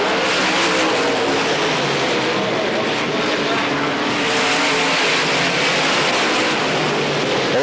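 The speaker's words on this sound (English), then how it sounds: "One more racing lap to go as Buck Simmons off the number 2 corner and down the back chute" Dirt track race cars roar around Pennsboro Speedway during the 1990 Hillbilly 100, a continuous loud engine drone that swells and eases slightly as the field races through a lap.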